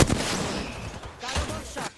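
Gunfire from an Apex Legends match, with several sharp, loud shot bursts spread across a couple of seconds over busy game noise and a faint voice.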